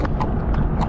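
A limping horse walking along, its hooves giving a close, steady clip-clop of about four distinct hoof strikes over a low background rumble.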